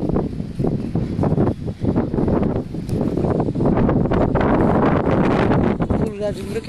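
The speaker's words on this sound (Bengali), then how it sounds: "ঝড় উঠেছে।" Strong gusts of wind ahead of a storm buffet the microphone and rush through swaying flowering plants outdoors, loud and uneven, under a person's talking.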